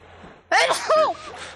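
A single sharp sneeze bursts out close to the mic during a tabletop role-playing game session, with a faint breath just before it.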